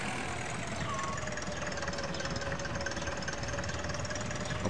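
A tractor engine idles in Agricultural Simulator 2013 farm game, a steady low rumble with a faint knocking texture running unbroken at moderate level with no talking over it.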